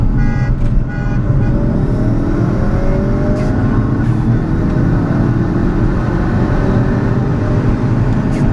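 Two modified Ford hatchbacks race side by side, a 345 bhp Focus RS against a 240 bhp Stage 2 Fiesta ST, their engines droning loud and steady with rising revs for the whole stretch.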